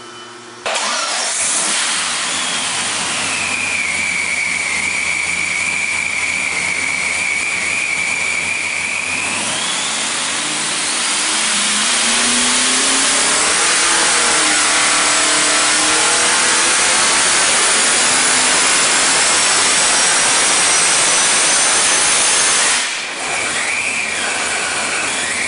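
A Steve Morris engine making a full-power dyno pull indoors: loud idle and a steady high whine, then a long rising rev climbing to a roaring peak, a brief cutoff, and it settles back to running.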